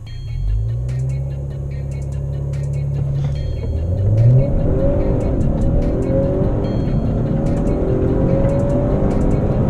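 A 2018 Honda Accord 2.0 idles, then launches and accelerates hard from a standstill, its engine note climbing steadily and loud from inside the car.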